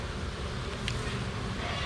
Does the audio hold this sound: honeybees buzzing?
yes